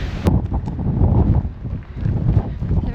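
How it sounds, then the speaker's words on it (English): Strong wind on a hilltop buffeting the microphone in loud, uneven gusts, a low roaring rush that swells and dips without pause. "You can tell we've gone a lot higher because it's a lot more windy."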